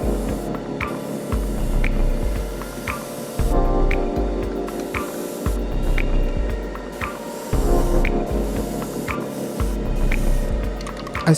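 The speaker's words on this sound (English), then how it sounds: "I sprayed the Saber's beam effect with Tester's Create FX fluorescent pink." An airbrush sprays Tester's Create FX fluorescent pink paint onto a Bandai HGUC RGM-79 GM model kit part, giving a steady close hiss with a low hum beneath and short breaks where the spray stops and restarts.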